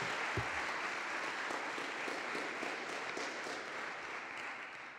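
A chapel audience applauds to welcome a speaker, steady dense clapping filling the room at moderate volume and holding evenly throughout.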